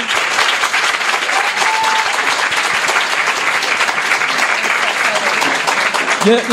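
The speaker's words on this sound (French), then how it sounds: "On peut lui donner un petit applaudissement." Loud, close applause from a live podcast audience at a beer event, honoring the brewer, a dense continuous clatter of many hands with a faint voice briefly emerging near the end.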